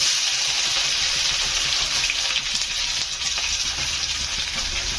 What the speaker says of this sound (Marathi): आपलं तेल गरम झालं आहे त्याच्यामध्ये मोहरी टाकूया जिरे जिरे छान फुलू द्यायचं तसंच कढीपत्ता त्यानंतर बारीक चिरलेला कांदा